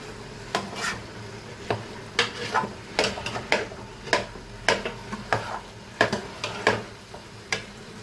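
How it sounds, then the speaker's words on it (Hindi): Spoon scraping and stirring makhandi halwa with milk in a pan, a run of irregular short scrapes and clinks close up over a faint sizzle, with no talk. "तो मसलसल चम्मच हिलाना है आपने।"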